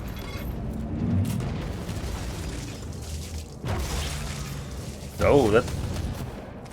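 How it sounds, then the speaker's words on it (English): Bolt pistol fire in Warhammer 40K Inquisitor Martyr, heavy booming shots and impacts over a dense roar of game combat noise, with a brief spoken exclamation in between. "let's try out the chainsword and the bolt pistol"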